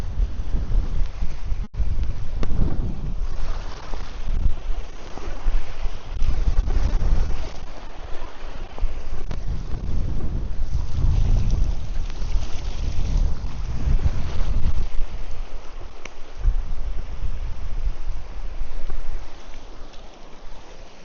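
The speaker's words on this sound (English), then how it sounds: "this wind's getting ridiculous" Strong, gusty wind buffeting the microphone on a fishing boat out on the water, a steady low roar of wind noise with rushes and dips throughout, and water lapping faintly beneath.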